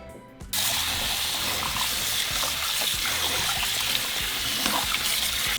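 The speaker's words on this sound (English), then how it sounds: "So just rinse it until the water is clean again." Water pours steadily from a tap while pork fat is rinsed, after a brief quiet start, a continuous splashing rush with faint clinks beneath.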